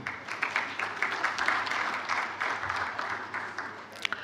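Fellows applauding at an induction ceremony, a sustained crowd clapping for several seconds with dense overlapping claps, fairly close and loud, fading slightly toward the end.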